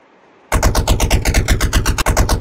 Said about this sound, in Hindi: वातावरण गोलियों की तरतार से गूंज उठा